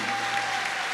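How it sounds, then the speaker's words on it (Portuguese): Congregation applauding in a church, a steady dense wash of clapping filling the whole short moment at even loudness with no break. "Aplauda o Senhor,"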